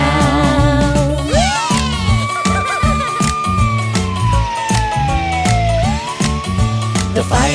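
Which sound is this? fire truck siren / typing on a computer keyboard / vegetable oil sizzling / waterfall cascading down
fire truck siren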